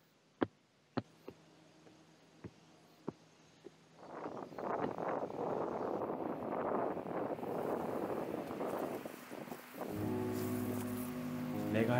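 Wind and rustling grass on a quiet mountain summer or autumn evening, a steady breezy rush with soft brushing texture, preceded by a few sharp ticks or footsteps, then a denser humming noise toward the end.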